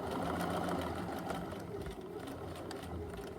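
A sewing machine runs steadily for a few seconds, stitching elastic on pajama pants, a continuous fairly quiet motor whir with a dense rapid needle patter and no voices.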